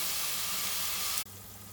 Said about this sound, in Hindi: प्याज को हम लोग 5-7 मिनट के लिए फ्राई होने देते हैं